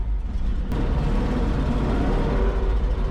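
A 1939 Ford truck engine idles close by, a steady loud rumble with an exhaust leak, running alone without talk.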